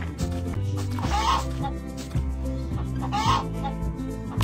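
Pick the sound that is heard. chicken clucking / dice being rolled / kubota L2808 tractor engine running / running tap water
chicken clucking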